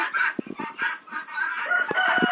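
Hens cluck and murmur close by in a henhouse in winter, a loud run of throaty clucks with brief cackling notes and no speech.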